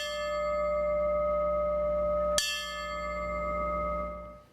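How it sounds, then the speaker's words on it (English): A fire bell tolls in honor of fallen firefighters in Plymouth, a single sharp strike whose bright metallic ring hangs and slowly fades amid a steady sustained tone. "In Plymouth, the tolling of a fire bell is a sign of honor for firefighters who have died in service"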